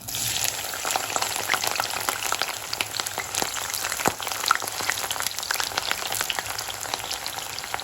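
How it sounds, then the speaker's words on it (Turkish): Eggplant pieces frying in plenty of hot oil on a stovetop, a dense, continuous close sizzle with scattered crackling pops. "bol ve kızgın yağda kızartırsak patlıcanlarımız fazla yağ çekmeyecektir"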